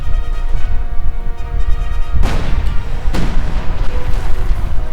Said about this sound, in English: Another high explosive round blow up the nearby surroundings